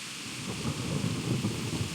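Rain and rolling thunder in the medieval video game Kingdom Come: Deliverance, a dense steady downpour hiss over a low continuous rumble, with no talking.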